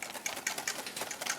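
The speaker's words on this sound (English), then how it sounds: "little stream of butter," A whisk beats hollandaise in a bowl as a thin stream of butter is poured in, giving a quick series of bright, rhythmic clinks and scrapes, close and moderately quiet.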